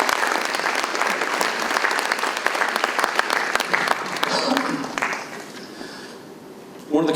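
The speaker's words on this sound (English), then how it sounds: "So that's something to clap for." An audience at a city State of the City address in Romulus breaks into full, dense applause. It holds strong for about five seconds, then thins and fades, and a brief louder burst comes at the end.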